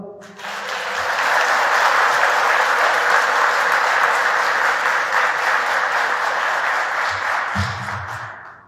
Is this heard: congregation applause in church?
yes